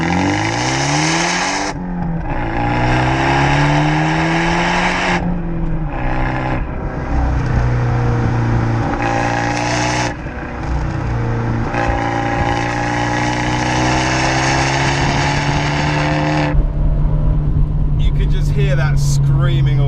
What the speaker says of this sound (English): the Abarth 124 Spider comes with a record monitor exhaust.